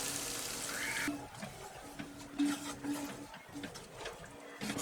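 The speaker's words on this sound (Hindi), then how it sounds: "और थोड़ा सा पानी डालेंगे।" Water is poured into a pan of egg curry with green coriander, a soft splashing hiss at the start followed by quiet sizzling and stirring clatter close by.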